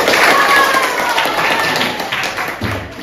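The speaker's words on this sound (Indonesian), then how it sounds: "Tepuk tangan untuk kita semua." A class of pupils clapping together after an action song in a sixth-grade lesson, loud close rhythmic hand claps with a singing voice briefly audible underneath, easing slightly toward the end.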